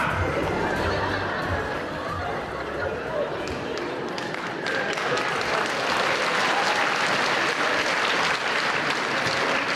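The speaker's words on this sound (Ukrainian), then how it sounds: "Такі строгі чоловічі оплески такі" Men in an audience clap firmly and steadily in dense, sustained applause, with a few scattered chuckles mixed in.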